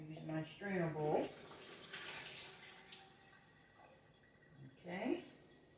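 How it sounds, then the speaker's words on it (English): Water drained from soaked onions through a kitchen strainer bowl makes a soft, steady pouring wash under a person's speech, faint and continuous across the middle. "it says to drain the water from the onions. So I'm going to do that. Use my strainer bowl."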